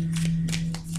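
Oracle cards from a mirror oracle deck are shuffled by hand: several close, soft papery riffling bursts over a steady low electrical hum.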